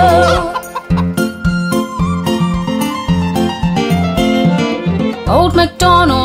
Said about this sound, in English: And on his farm he had some chicks, E-I-E-I-O. With a cluck cluck here and a cluck cluck there